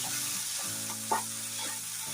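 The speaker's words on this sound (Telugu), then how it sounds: "ఒకసారి ఇలా కలిపేయండి." Small bitter gourd fry with masala in a pan, stirred with a continuous close sizzle and a few soft scraping strokes of the spoon, with no voices.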